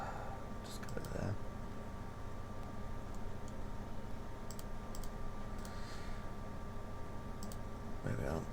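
Sharp computer mouse clicks during 3D modelling of a Warhammer 40k Imperial Knight lower leg, scattered singles and quick pairs over a steady background hiss, close and fairly faint.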